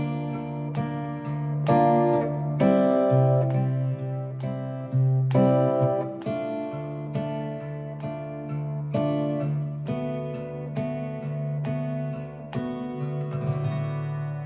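Fingerstyle acoustic guitar plays the closing four bars of a song, plucked notes and chords ringing out in a steady, unhurried rhythm, clear and close with no talking.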